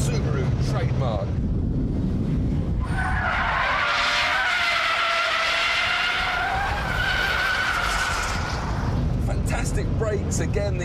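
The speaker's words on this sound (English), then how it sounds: "Brakes again, these rally bred cars have these brakes, and you can swing it one way and the other rally style" A Subaru rally car brakes hard and slides, its tyres squealing in a long, loud wavering screech over engine and wind noise, while someone talks before and after.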